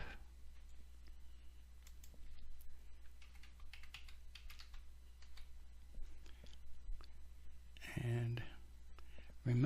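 Quick bursts of keystrokes on a computer keyboard while a login email and password are typed in, soft close clicking in irregular runs over a low hum, with a person speaking between them.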